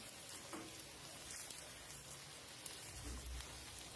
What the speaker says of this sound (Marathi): कांदा पण छान तेलावर परतून घ्यायचा आहे आपल्याला